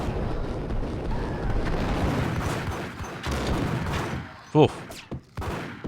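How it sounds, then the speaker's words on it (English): A woman firing a gun in Max Payne, heavy repeated gunfire booming over a dense rumble of game noise, then a few isolated sharp shots near the end, with a brief spoken exclamation. "Who's shooting? Oh, lady shooting."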